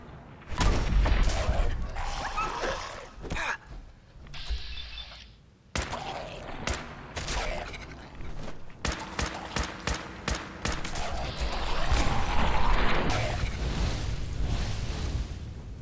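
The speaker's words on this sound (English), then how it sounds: "We're gonna need our tactical rifle." Tactical rifle fire in the video game Fallout 4 rings out in rapid sharp shots and rattling bursts, mixed with heavier booms, loud and near across the whole stretch.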